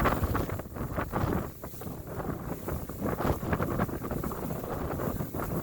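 Strong wind gusts buffeting a microphone outdoors, a steady loud rumbling roar with surging bursts throughout and no talking.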